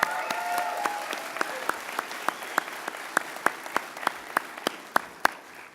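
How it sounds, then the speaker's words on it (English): Audience applause at a commencement ceremony, starting with a brief voice, then a thinning patter of claps that settles into a sparse, steady rhythm of individual hand claps at moderate distance. "How about a round of applause for Trent?"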